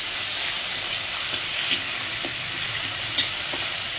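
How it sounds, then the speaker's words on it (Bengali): Onion, tomato and slit green chillies fry together in a pan, giving a steady, close sizzle with a few soft clicks of stirring. "এটাকেও টমেটোটাকেও একদম পেঁয়াজের সাথে ভালো করে ভেজে নেবো"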